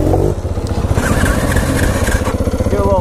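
A motorcycle engine runs close by with steady throttle, a continuous low rumble with mechanical clatter filling the whole stretch, and a brief voice near the start.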